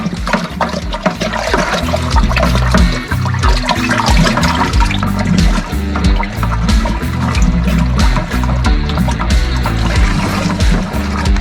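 Home-brewed smoked dark ale wort is stirred vigorously to aerate it, a loud, continuous churning and sloshing of liquid that runs steadily throughout with no talking.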